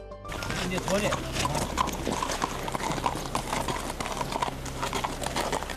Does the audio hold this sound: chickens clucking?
no